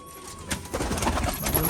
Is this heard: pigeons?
yes